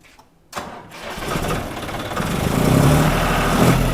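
After a brief quiet moment, a John Deere tractor engine cranks and catches, then runs and revs up to a loud, steady rumble.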